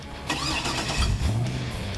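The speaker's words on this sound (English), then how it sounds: "That car started, you definitely knew which car was coming to set." A car fitted with a custom MagnaFlow exhaust, with two mufflers, an X pipe and side-exit tips, starts up and settles into a loud, deep, close rumble that swells after a brief cranking sound.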